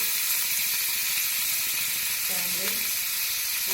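Cut tomatoes go into a hot frying pan for ridge gourd chutney, a steady loud sizzle that runs throughout, with a faint stir or clink near the end.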